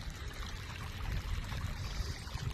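After a good rain, water runs over a paddy field's raised bank in a dense, unbroken gushing stream heard up close, steady and alone.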